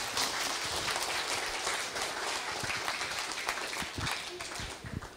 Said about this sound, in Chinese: 请大家热烈掌声一下